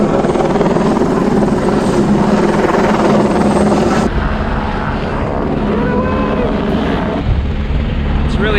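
A helicopter idles near windswept Lake Alta in New Zealand, a loud continuous rotor thrum and turbine whine that dips slightly midway, with wind buffeting and a voice talking over it.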